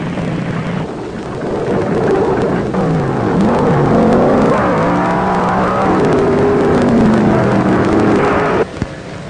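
Loud, sustained roar of wheelstander drag cars tearing down a drag strip, a continuous thunderous drone lasting nearly the whole stretch before cutting off abruptly.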